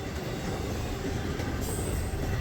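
Freight train 265 carrying piggyback trailers rolls past on the D&H line with a loud, continuous rumble of wheels on rails, and a thin wheel squeal rises near the end.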